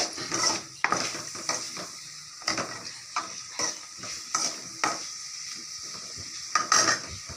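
Onions sautéing in a pan with repeated spatula scrapes and knocks against the metal over a continuous sizzle, close and fairly loud, and nobody speaks.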